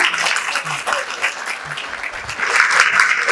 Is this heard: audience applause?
yes